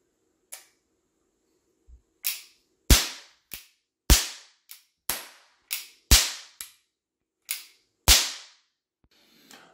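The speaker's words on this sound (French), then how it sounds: "comme ça pète pas fort, ah, ça n'a rien à voir avec une amorce 1075" Toy cap gun caps fire in about a dozen sharp, fairly weak pops, spaced irregularly with short silences between them, close by and with no talking.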